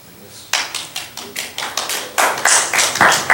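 Hand claps ring out at a county legislature meeting in a room, as a string of sharp, separate claps that speed up and thicken as a few more people join in.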